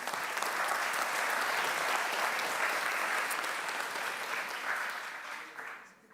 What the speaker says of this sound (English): Can I have a round of applause for Tessa?